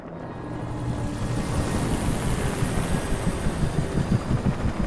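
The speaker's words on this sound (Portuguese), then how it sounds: "Agora vem helicóptero pra ajudar" A helicopter arrives in the video game Alan Wake Remastered, its rotor building into a loud, steady throbbing chop with a dense engine roar that grows heavier toward the end, heard alone.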